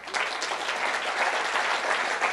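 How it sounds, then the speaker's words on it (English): Steady applause from the crowd at a pro-life committee's annual fundraising gala, a dense even wash of clapping with no talk over it. "anybody want, go ahead, give it a hand clap"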